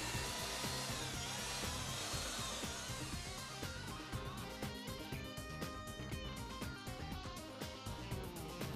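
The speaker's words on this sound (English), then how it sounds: "stir with a power drill at low revs until the desired mix is obtained" A power drill whirs steadily at low speed, stirring a thick elastic plaster mix with a continuous grinding, scraping texture and no talking.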